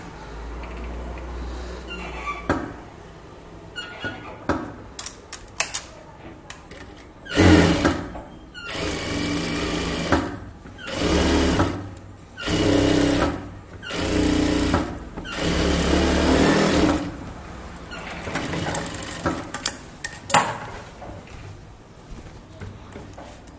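A sewing machine stitches a chudithar top in a run of distinct loud bursts of rapid whirring, several in a row with short gaps, surrounded by quieter handling clatter and fabric noise.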